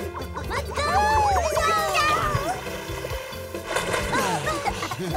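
Cartoon characters splash into the sea at the beach, with loud watery splashes and sloshing mixed under cheerful children's voices and chatter throughout.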